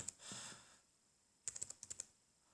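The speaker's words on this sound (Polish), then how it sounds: "wpisujemy adres http" A short burst of typing on a computer keyboard as a web address is entered, a quick cluster of light key clicks after a moment of quiet, faint and close.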